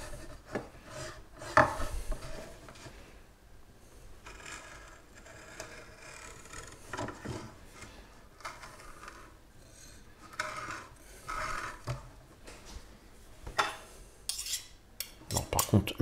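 A vanilla pod is split and its seeds scraped out while making Raymond Oliver's crêpes, giving soft, repeated rasping and scraping strokes of uneven rhythm, close and quiet, with a few sharper clicks of utensils and no talking.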